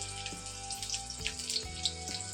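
Hot water being drained off boiled chow mein in a home kitchen, a steady close splashing pour running throughout with no talking.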